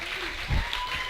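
A soccer crowd at an under-23 match between the Gunners and Sounders U23 applauds a goalkeeper's save, a steady wash of clapping with a brief low thump midway, moderately distant and fairly even.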